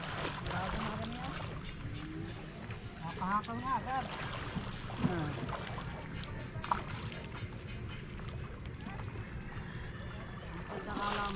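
A steady new boat engine drones under wind and water noise, with people talking in Filipino nearby over the rumble.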